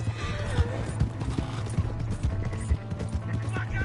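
Horse hooves clip-clop in a Western open-world game, Red Dead Redemption 2, steady, fairly close, thudding beats over a busy game soundscape with ambient layers.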